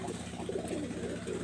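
Pigeons from a flying breed line give a short stretch of low, rolling coos, close by, layered over a constant background hum.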